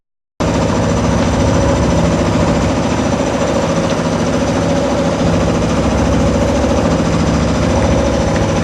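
Sailing boat motoring along at about 4 knots under engine power, a steady, loud mechanical drone with constant rhythmic chugging that starts abruptly and holds unchanged throughout, with no voices.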